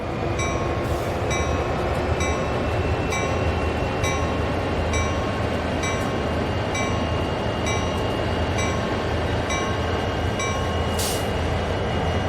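A train pulls out of a yard in a train simulator game, with a steady loud rumble of rolling stock, regular rhythmic clicks from the wheels over rail joints, and a brief high squeal near the end, with no talking.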